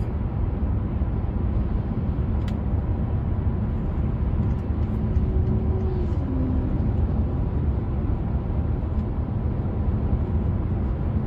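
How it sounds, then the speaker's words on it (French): A steady, loud diesel engine drone from inside a BMW 635d coupé under acceleration, a continuous low rumble that holds throughout without pause. "On entend bien le bruit à l'accélération, hein, donc ça reste un diesel"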